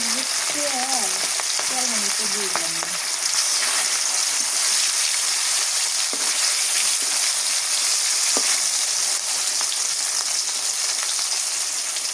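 A continuous loud hiss of fish frying in mustard oil in a pan fills the whole stretch, steady and close, with a brief voice near the start.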